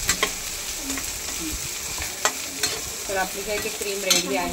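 Vegetables with corn shallow frying in a pan for white sauce pasta, a steady close sizzle broken by stirring scrapes and clinks, with someone briefly talking over it.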